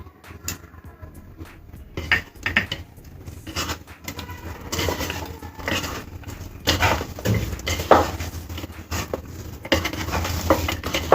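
Bread crumbs are tipped into a soya kabab mixture in a bowl, with repeated soft scraping and clinking of a utensil against the dish and a low steady hum underneath, close by and with no talk.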